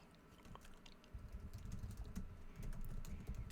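Quiet, close typing on a computer keyboard during Rust programming, a soft, uneven patter of key presses that grows a little busier partway through, with no talking.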